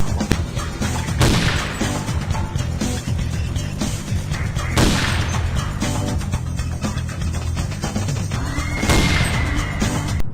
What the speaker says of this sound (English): with the sniper rifle you at least have better range than them